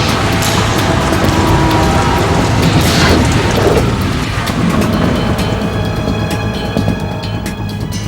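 Heavy rain pours loudly and continuously in Metal Gear Solid 2 aboard the tanker, with a deep thunder boom rolling through near the middle, amid mechanical clanking.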